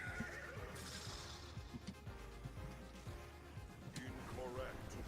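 A video game horse whinnies in a high, wavering neigh at the start, then snorts and clip-clops under soft game sounds, with another short whinny near the end; quiet overall.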